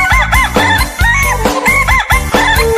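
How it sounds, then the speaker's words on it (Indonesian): A loud, close rooster crow repeats several times in a row, bright and electronic-sounding, like a toy's recorded call, coming from a toy balloon. "Bunyinya ayam, suaranya ayam. Kukuruyu."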